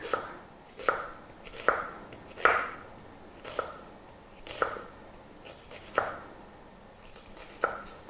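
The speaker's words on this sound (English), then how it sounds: "So let me slice these up real quick." A kitchen knife slices onions for fajitas on a cutting board, about eight sharp, evenly spaced chops close up against a quiet background.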